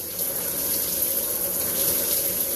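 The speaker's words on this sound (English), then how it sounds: "Perhaps cup your hands in front of the warm shower." A warm shower running in a steady, loud, continuous hiss of spraying water, with no other sounds.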